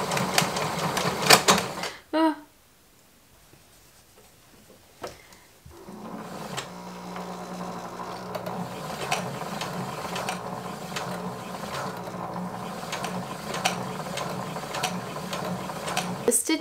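A sewing machine stitching a stretchy leotard, a close mechanical ratcheting hum that stops briefly near the start, then resumes and runs steadily, with a few short mechanical clicks in between.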